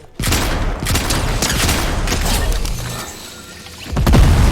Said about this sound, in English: someone just shot something at me